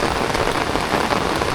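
Steady, loud rain pours down over flooded rice paddies during a wet morning of transplanting, a dense continuous hiss of drops striking water and ground with no voices.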